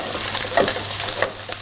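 Garlic frying in oil in a pan gives a steady sizzle with faint stirring scrapes, and no talk over it.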